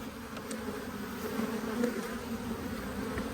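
Honey bees buzzing inside a hive that has eaten through its pollen patties, a steady, dense, agitated drone that swells slightly midway, close and continuous with no voices.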